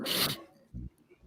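A single sharp, breathy sneeze bursts out up close, followed by a brief low thump and quiet room noise.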